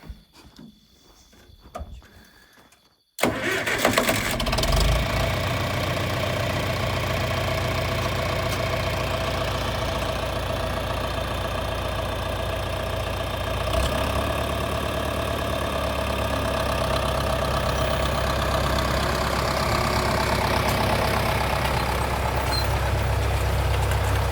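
After a few seconds of quiet, a tractor's heavy diesel engine turns over and starts, then settles into a steady, loud rumbling idle that continues throughout.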